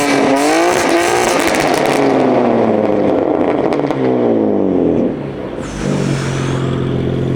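A hybrid car tuned for more than 500 horsepower revs loudly nearby, its engine and exhaust rising and falling through several throttle blips, with a deep rumbling idle between the revs.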